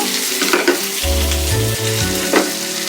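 Onions, green chilies and curry leaves frying in a pan for bottle gourd curry: loud, close sizzling with stirring scrapes throughout and a low humming tone in the middle.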